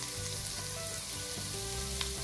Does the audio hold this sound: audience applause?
no